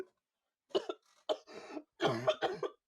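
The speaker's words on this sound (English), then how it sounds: "Oh, you fucking activated the COVID cough in me." Several harsh coughs close up, a short cough followed by a longer fit of hacking bursts, with quiet gaps between them.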